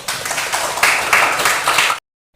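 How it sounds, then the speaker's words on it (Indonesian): A classroom bursts into applause, a dense wash of many hands clapping together for two seconds before cutting off abruptly. "Tepuk tangan."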